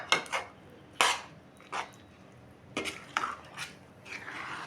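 A spoon stirs homemade tomato pickle with its tempering in a pot, giving several separate scraping clinks of metal against the pot in an irregular rhythm. The sounds are close and moderately loud, with quiet pauses between strokes.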